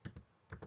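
Keys on a computer keyboard are typed in four quiet clicks, two quick pairs separated by a short pause, faint and close with no speech.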